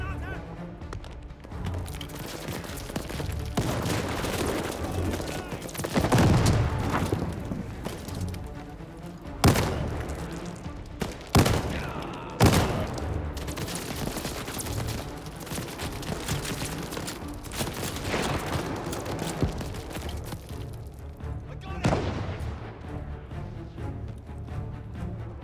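Dense gunfire from a Call of Duty Vanguard battle at El Alamein, with sustained rifle and machine-gun bursts and several heavy booms over nearly continuous combat noise, loud and close throughout.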